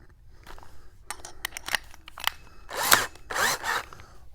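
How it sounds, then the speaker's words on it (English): A power drill bores into a pressure washer tank in short, loud bursts of whirring and grinding that grow stronger toward the end. The bursts are close and separated by brief pauses. "So I'm going to drill pretty much right in the middle."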